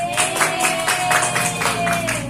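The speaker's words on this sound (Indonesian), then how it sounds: "Beri tepuk tangan buat." In a classroom, children clap together in a quick, regular rhythm, loud and close, with a steady hum in the background throughout.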